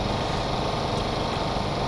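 A Metra F40PH-3 diesel locomotive engine with turbochargers in the Stormworks game runs at a loud, constant drone with a steady whine and rumble, unbroken and alone.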